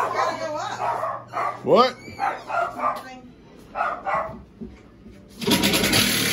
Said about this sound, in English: Oh my goodness, a dog.